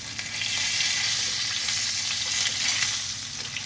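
A lamb chop sizzles steadily in a hot frying pan, a close, continuous hiss and crackle of fat that holds even throughout with no talking.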